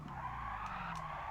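Sustained tire skid and squeal from a car drifting in Gran Turismo Sport, steady and loud throughout over a constant engine drone, no talk.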